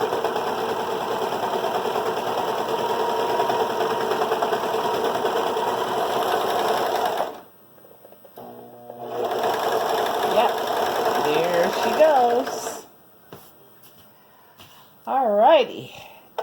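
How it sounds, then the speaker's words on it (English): A Brother 4031 serger runs steadily with a whirring motor hum for about seven seconds, stops, then runs again in shorter bursts with a few rising and falling whines. Brief pauses separate the runs. "turn it on, and let's see if it's ready to go."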